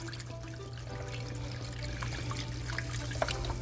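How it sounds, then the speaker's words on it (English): Beef broth poured into a pot of steak and potato pie filling, a soft, steady trickle of liquid over a low background hum, close by, with no one speaking. "added about another cup of the beef broth. Mix that in."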